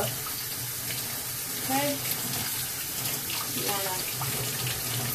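Tap water runs steadily into a sink while a fish is washed by hand, a continuous close splashing stream with occasional handling sounds and a brief spoken word over it.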